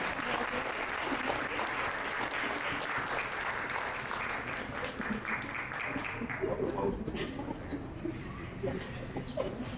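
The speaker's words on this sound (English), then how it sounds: "a big round of applause to our MC" An audience at a women empowerment conference in Edmonton gives the MC a big round of applause, with dense, sustained clapping that fades slightly toward the end and some cheering voices mixed in.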